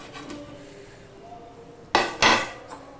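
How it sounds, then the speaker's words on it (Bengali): Potatoes drop into boiling curry in a pot for a kopta curry, giving two loud close splashing thuds about a quarter second apart, followed by a faint clink, over a quiet background of low bubbling. "দেখো ঝোলটা ফুটে উঠেছে এবার আমি দিয়ে দিচ্ছি আলুগুলো"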